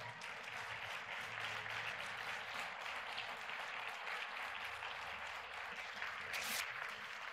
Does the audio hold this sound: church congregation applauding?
yes